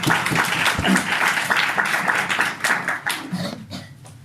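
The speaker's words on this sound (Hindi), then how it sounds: "खुदा उनके जलाल के लिए ताली बजाएं" A church congregation applauds during a Hindi-language sermon, many hands clapping in a close, lively burst that gradually thins out and fades toward the end.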